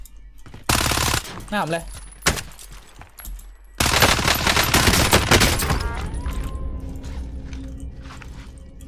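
Kriss Vector gunfire in Call of Duty Warzone comes as loud close automatic bursts, one short burst then a longer sustained stream, with mechanical clatter between and a player's voice speaking briefly.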